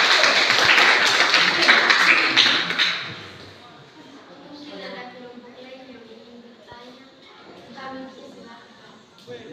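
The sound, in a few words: applause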